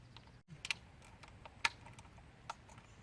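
A torque wrench set to 71 inch-pounds clicks on fasteners while tightening a PCV bypass on a Chevy Cruze: a few sharp, isolated clicks spaced about a second apart, close and fairly quiet over a low background hum.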